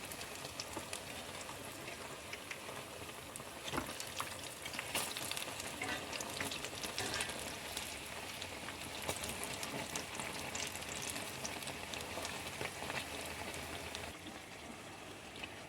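Chili bajji fry in hot oil and are flipped, a dense, steady crackling sizzle, close and loud throughout, with occasional soft clatters from turning the fritters and no talking.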